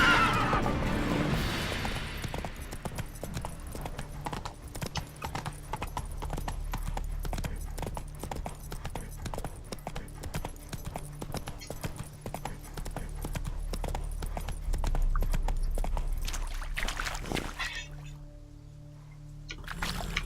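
Roach the horse gallops in The Witcher 3, a quick steady clip-clop of hooves with occasional whinnies, loud and close for most of the stretch before easing off near the end.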